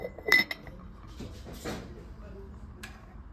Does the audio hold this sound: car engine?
no